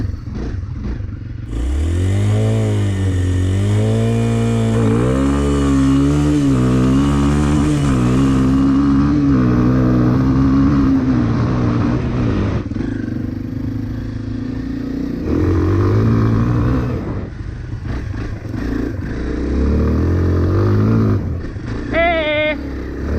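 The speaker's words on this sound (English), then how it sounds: "Gotta rev it up a little bit more." A Kawasaki KLX 230R dirt bike engine revs repeatedly on thawing March ground in Minnesota, its pitch climbing and falling in several loud swells before settling to a high idle, with someone talking over it.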